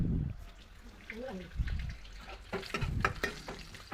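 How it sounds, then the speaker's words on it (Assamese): Bay leaves, dried red chillies and a pinch of asafoetida sizzle in hot oil for a paneer masala curry, soft crackling and spattering with stirring clinks, while someone talks over it. "এতিয়া সেই তেলখিনিতেই মই মছলা এড কৰিম। ইয়াত তেজপাত দি দিছোঁ 2টা, জলকীয়া, শুকান জলকীয়া দিছোঁ।"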